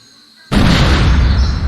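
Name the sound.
cannon firing in Monkey Island 2 video game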